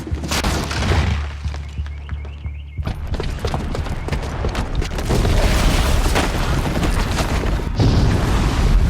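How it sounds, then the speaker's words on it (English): A bomb detonates in Horizon Zero Dawn, with a deep booming blast and crumbling debris, followed by sustained loud rumbling and crashing that rolls on for several seconds with no voices. "the booby trap on the bomb downstairs is gonna get set off"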